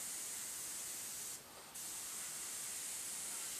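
A soft, continuous airbrush spray hiss with a short break partway through, quiet and steady with nothing else audible.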